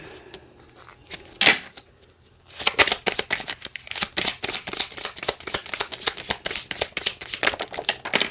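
Tarot cards shuffled by hand, a quick soft riffle first, then after a pause a long run of rapid, crisp flicks and slaps close by, with no talking.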